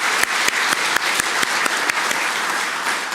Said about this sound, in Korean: 우리 인사할 때 큰 박수로 환영하시기 바랍니다